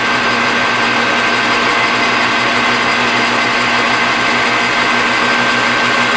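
A lathe facing off a metal breather nut for a vintage Ford Mustang, giving a steady, loud broadband machining whine that runs without a break, close up, with no talk.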